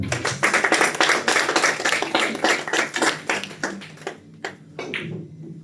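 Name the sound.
audience applause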